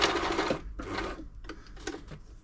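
A New Home L 312 sewing machine runs a long straight stitch in short bursts, a steady mechanical whirring rising and pausing, then quicker stop-start runs with reverse, close and clear.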